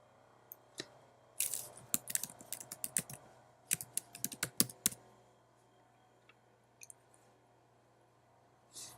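A file name is typed on a computer keyboard in a quiet room, with a burst of fast, close key clicks followed by a few scattered taps and pauses.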